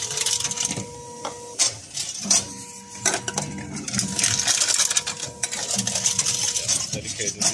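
A bottle return machine in Germany rejects a crushed bottle, giving a run of clattering mechanical whirs and rattles with brief steady electronic tones, close and fairly loud, with faint talk underneath.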